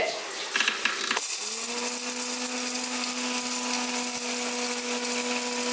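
A kitchen mixer grinder whirs while grinding curry leaves into powder. A brief clattering start settles into a steady, droning motor whine that holds at moderate volume.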